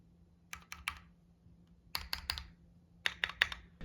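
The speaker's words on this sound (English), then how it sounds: "It's almost a satisfying listening experience when typing." Three quick bursts of keystrokes on a Keychron Q6 mechanical keyboard, each a tight cluster of three or four crisp clacks separated by short pauses, close and clear in a quiet room.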